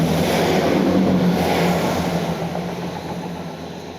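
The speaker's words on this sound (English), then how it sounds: "Let's wait for this train to go by." A train rolls past at a steady, loud, broadband rumble with low tonal hum, holding close for the first seconds and then easing slightly as it moves off, with no talking over it.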